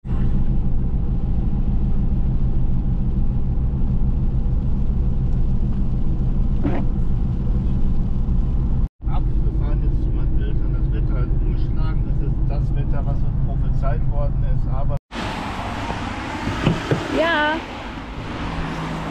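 A car drives along with a steady low road rumble and engine hum, broken by two abrupt cuts and a noisier final stretch, while people talk throughout.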